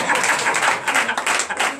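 A church congregation at a Sunday service claps steadily in acclamation to Jesus, a dense wash of hand claps mixed with voices throughout.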